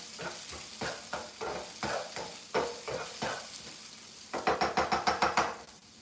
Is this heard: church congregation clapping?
no